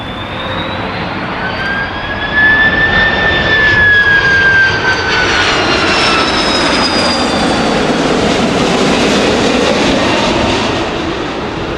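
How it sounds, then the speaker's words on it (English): A Saudi Airbus A330 MRTT air-to-air refueling jet at East Midlands Airport roars loudly and steadily, with whining engine tones that slide downward as it passes close by. "They are A330 MRTTSs. In other words, they're air-to-air refueling aircraft."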